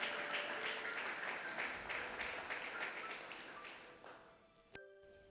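A church congregation at a Sunday worship and thanksgiving service claps for Jesus, a steady run of rhythmic, crowded hand claps that fill the room, then stop abruptly near the end.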